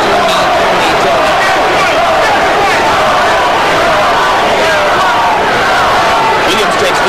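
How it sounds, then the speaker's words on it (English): Boxing arena crowd at the James Toney vs Charles Williams fight chanting Toney's name, a loud, dense roar of many voices filling the hall steadily with no breaks. "Now the crowd begins to chant Toney."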